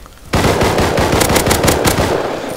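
Rapid video-game gunfire bursts out after a brief quiet start, a loud, dense stream of shots continuing to the end with no talk.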